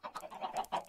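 Minecraft chickens cluck in a few short, soft bursts, quiet game sounds with brief pauses between them.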